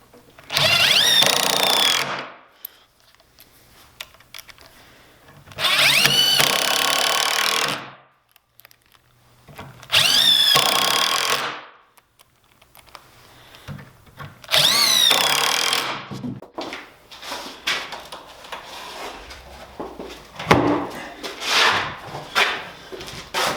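A power drill drives 2-inch screws into plywood on a workbench top, no glue, in four loud, steady bursts of about two seconds each with short pauses between, followed by quieter handling and clatter.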